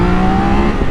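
A Triumph Daytona 660 motorcycle's three-cylinder engine drones loudly and steadily at high revs, with a sustained, even tone and no other sounds.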